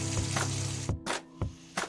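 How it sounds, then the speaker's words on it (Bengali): Potatoes sauté with spices in a pan, producing a soft steady sizzle broken by a few short scraping strokes of the spatula, quiet and close with no talking. "এবার আমি এই মশলার সঙ্গে আলুটাকে আরও 5-7 মিনিট মতো কষিয়ে নেব, যাতে আলুটাও একটু সিদ্ধ হয়ে যায় আর হালকা ভাজা ভাজাও হয়ে যায়।"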